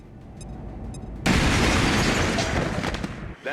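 A phosphor grenade in XCOM 2 detonates with a sudden loud, broadband blast that hits at once and sustains as a crackling, roaring burst for about two seconds before cutting off.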